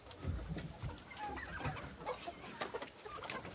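Several hens cluck softly and intermittently nearby, a low busy murmur of short calls over faint background noise.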